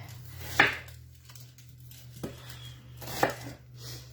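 A knife chops onions into half moons on a board, making three spaced, hollow knocks, close but fairly quiet, over a low steady background hum with no speech.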